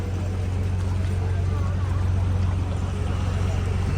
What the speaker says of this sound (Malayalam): ബോട്ട് കെട്ടിയിലേക്ക് അടുക്കുകയാണ്